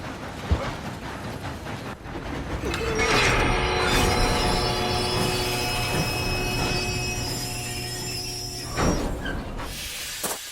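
A train running on rails in Red Dead Redemption 2 makes a sustained mechanical rumble with metallic screeching tones. It swells after a couple of seconds, holds for several seconds and ends with a few sharp clanks.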